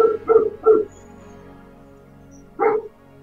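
A dog barks nearby in a few quick, fairly loud woofs, three in a row, then a pause and a single bark again, against an otherwise quiet background.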